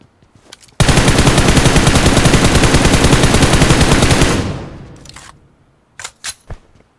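Sustained automatic gunfire in a PUBG-style battle royale video game blasts loud and close in a rapid continuous burst for several seconds, then fades out, followed by a few sharp single shots.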